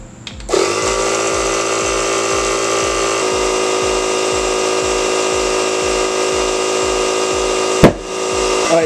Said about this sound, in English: Once it's tight, get your air compressor.